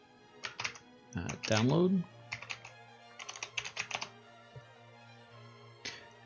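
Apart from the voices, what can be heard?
typing on a computer keyboard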